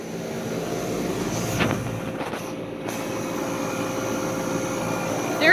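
A vintage Day & Night air conditioner with an old Tecumseh compressor runs with a steady, even mechanical drone throughout, broken only by a couple of faint clicks.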